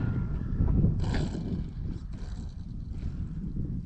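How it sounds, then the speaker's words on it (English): Strong gusting wind buffets the microphone at an RC plane flying field, a loud low rumbling roar with no voices. "That wind, man."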